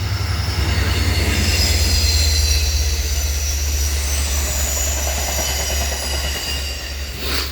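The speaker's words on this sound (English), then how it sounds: "It's the Long Island Railroad." A Long Island Rail Road train rumbles past close by, a loud steady roar with rattling wheels and a faint metallic squeal, fading slightly toward the end.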